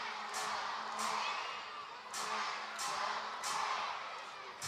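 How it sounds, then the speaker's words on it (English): Crowd noise at an indoor soccer game between the Baltimore Blast and Milwaukee Wave: a sustained, distant arena roar with repeated sharp bursts that rise and fall every second or so, and faint chatter under it. "Crowd trying to make some noise here"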